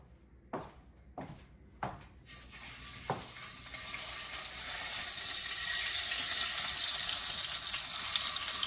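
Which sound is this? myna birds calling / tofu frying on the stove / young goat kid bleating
tofu frying on the stove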